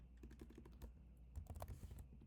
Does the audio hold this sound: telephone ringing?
no